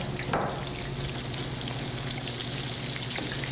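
Steady, loud sizzling of food frying in hot oil in a big skillet, with a brief clatter near the start and no talking.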